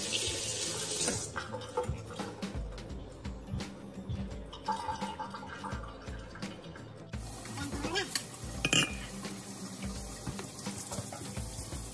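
Tap water runs into a sink while pork bones are rinsed, a steady close splashing with clatter of bones and hands moving in the water, shifting in intensity throughout.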